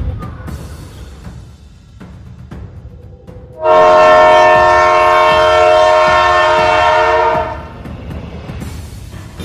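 A Kolkata metro train gives a long, steady horn blast of about four seconds, loud and close, rising out of low background rumble and then cutting off.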